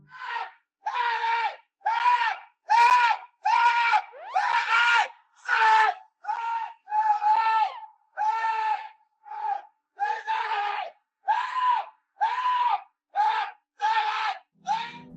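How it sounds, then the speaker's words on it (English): Terrified human screams caught by a doorbell camera, about fifteen loud separate shrieks in a steady rhythm with short silent gaps between them. "The camera captures chilling screams, sounding like someone is terrified for their life."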